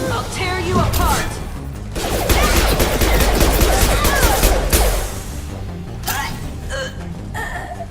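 Rapid pistol gunfire from the video game Mass Effect 2 in a dense, loud burst of repeated shots mixed with impacts and game effects, fading at the end and followed by a few isolated shots.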